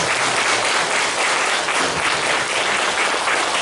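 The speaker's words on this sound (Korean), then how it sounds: "축하의 박수를 드리기 바랍니다." A church congregation applauds in celebration, a dense, steady wash of clapping hands that fills the room at even loudness throughout, with no voices standing out above it.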